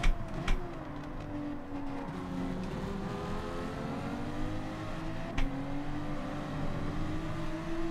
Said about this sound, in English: I was drifting it all the way through there